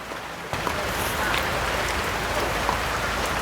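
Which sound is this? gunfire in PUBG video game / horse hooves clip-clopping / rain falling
rain falling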